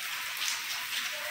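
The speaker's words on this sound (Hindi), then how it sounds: "लक्ष्मणगढ़ में बरसात शुरू हो गई है, रिमझिम रिमझिम रिमझिम सावन की फुहारें गिर रही है" Steady monsoon drizzle falls in Lakshmangarh during the Sawan rains, a soft, even hiss of fine raindrops pattering on surfaces, close by and continuous with no voices.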